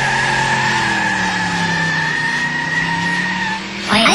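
A car revs hard and its tires squeal in a long, loud, steady skid with a sliding engine tone, then a sudden scraping burst near the end, with no voices over it.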